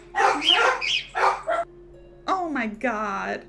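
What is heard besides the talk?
dog barking outside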